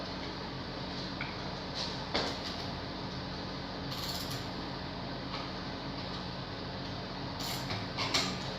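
A ratcheting wrench tightens a 7/16 inch nut on the springs of a Dixon transaxle on a workbench, giving continuous soft clicking and mechanical rattling at close range over low background hum, with occasional sharper clicks.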